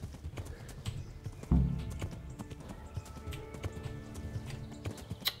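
Horse hooves clip-clopping away at a run in the medieval game Kingdom Come: Deliverance, a steady rhythmic patter of hoofbeats after a sudden thump, moderately loud and fading a little, with no talk.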